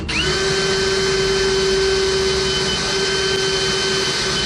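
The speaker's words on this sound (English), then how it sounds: "I just drill myself a little 1/8 inch pilot hole." A power drill whines at a steady high pitch, spinning up sharply at the start and holding a constant, loud drone as it bores a 1/8 inch pilot hole through a metal spot weld.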